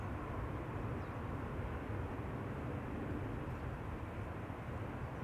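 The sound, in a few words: Airbus A350 landing at Schiphol Airport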